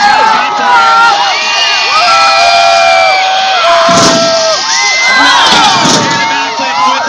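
A large crowd of children cheers, shouts and whoops loudly and continuously at a school assembly BMX stunt show, with swelling bursts of excited screaming throughout.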